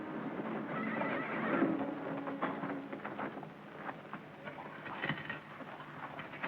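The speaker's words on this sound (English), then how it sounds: "Jerry, take the horses back to General Johnston's camp." Horses at a Civil War army camp, with a loud whinny near the start followed by scattered hoof clip-clops and shuffling, against a dense background of movement.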